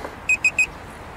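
A Mosquito drone controller gives three short, evenly spaced high-pitched electronic beeps against quiet room background, with no voices during the tones.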